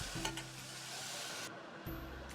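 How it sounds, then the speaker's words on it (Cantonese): Strips of prosciutto stir-frying in a teaspoon of oil in a pot over medium-high heat, a steady close sizzle with a couple of brief scraping stirs. "用中大火將佢燒熱，然之後就加入火腿絲落去，將 prosciutto 炒大概30零秒，令到香味釋出"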